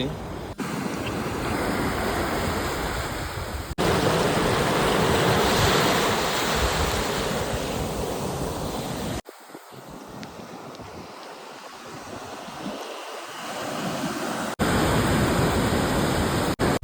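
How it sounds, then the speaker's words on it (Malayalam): Sea waves crash and wash up the shore in a continuous roaring surf on a fishing coast, with heavy wind buffeting the microphone. The surge swells and eases over time, and voices are faintly audible beneath it. "കടലിങ്ങനെ അടിച്ച് കയറുന്നുണ്ട്"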